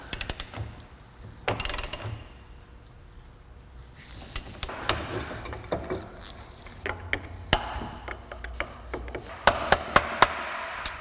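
Sharp metallic taps of a hammer seating a snap ring on a U-joint in a loose yoke, in scattered bursts with clinks and small mechanical rattles between, close and fairly loud, no talking.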